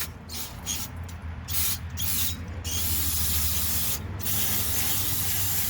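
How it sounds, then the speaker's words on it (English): A steady hissing spray of brake cleaner from an aerosol can onto a 1987 Toyota 4Runner 22RE engine part, broken by a few short pauses, close by with a low hum underneath. "I'm gonna coat it with some brake cleaner"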